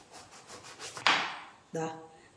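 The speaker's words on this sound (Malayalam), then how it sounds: "വലിയ 2 വഴുതനയും നമ്മൾ ഇതേ രീതിയിൽ ഇങ്ങനെ കട്ട് ചെയ്തെടുത്തിട്ടുണ്ട്." Knife slicing through brinjal (eggplant) into pieces for frying: a scraping cut builds to one sharp bright slice, then a second shorter cut with a thud on the board, close and clear.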